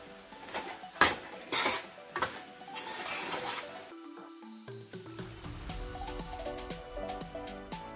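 Coconut roasting in a pan as a sweet is made, with clinks and scrapes of a spoon stirring against metal followed by a soft, steady sizzle, close and fairly quiet without speech.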